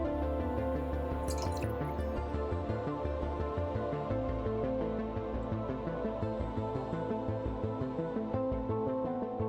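Water pours steadily into a glass, a continuous liquid trickle and splash that runs for nearly ten seconds at close range with no talking.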